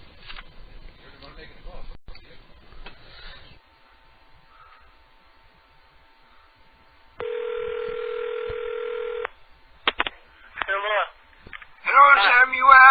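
Telephone dialing tones on a call-in radio show, a steady dial tone held for about two seconds then a short burst of dialing beeps, loud and clear between stretches of a host talking.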